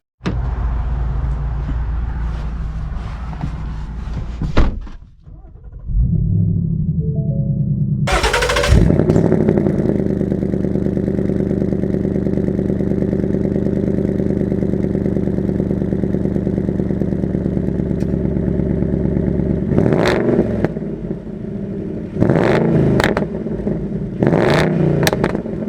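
A Ford Mustang Bullitt's V8 engine idles and clatters, then roars loudly as the car pulls away and accelerates, a steady close engine drone with further revs and bursts near the end.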